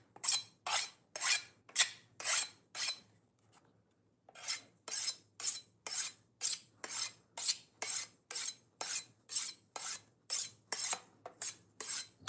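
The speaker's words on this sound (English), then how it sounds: "See how this sharpener just predetermines all my success for me." A knife is drawn through a knife sharpener in quick, even rasping strokes: a run of about six, a short pause, then a longer steady series, close and crisp with no talking.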